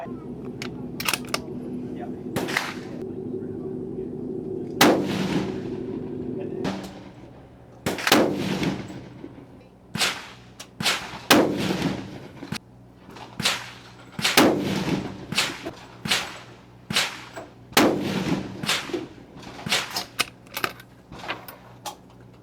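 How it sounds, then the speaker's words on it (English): Rifle shots fired at a target with a string of not-annealed ammunition crack out loud and close, over a dozen sharp reports spaced a second or so apart with echoing tails. "Right, not annealed, 25 shots in the bag."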